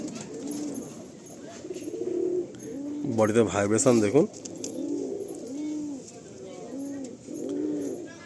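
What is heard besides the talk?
pigeons cooing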